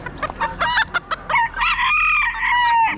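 Chickens and guinea fowl call at an Amish livestock auction, with a hen's harsh repeated cries and clucks close by and short squawks in quick succession.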